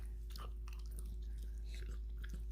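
A dog chews on a piece of pit-roasted whole lamb leg, giving soft, irregular bites and crunches close by, quiet and steady against a faint constant hum, with no talking.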